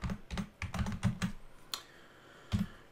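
Text being typed on a computer keyboard into a document, a quick run of close, crisp key clicks, then a pause and a couple of isolated keystrokes, with no talking.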